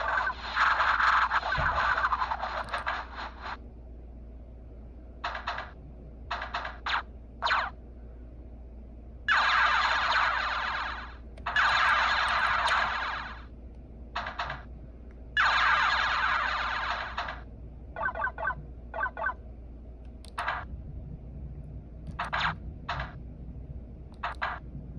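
Space Cadet Pinball running on a PS Vita port with its original sound effects, a string of bright electronic tones in bursts of varying length, some long and warbling like a siren, others short blips.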